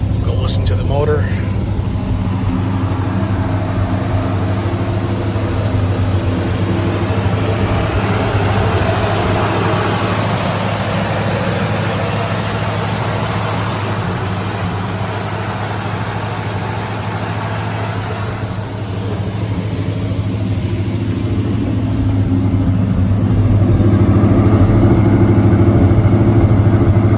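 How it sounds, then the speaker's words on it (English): A rebuilt 1972 Chevrolet Chevelle engine idles steadily and close by, a continuous low rumble throughout with people talking over it. "Go listen to the motor."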